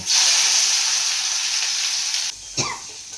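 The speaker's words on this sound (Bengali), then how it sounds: "এবারে আমি এর মধ্যে টমেটোটা ভেজে নেব" Tomato frying in hot oil with nigella seeds and green chilli gives a loud, steady sizzle that cuts off abruptly near the end, followed by a brief stir or scrape.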